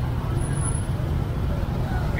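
Steady roadway rumble from a dense traffic jam in Vietnam, with motorbikes and cars packed in both directions ahead of Typhoon Noru (storm No. 4) reaching central Vietnam. It is a continuous low drone with crowd babble mixed in.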